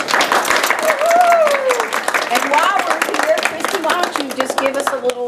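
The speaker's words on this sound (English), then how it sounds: "we'd like to give a big round of applause as she cuts the ribbon for this new business" Crowd applause at a downtown ribbon cutting for a new business, steady clapping throughout with a voice talking over it.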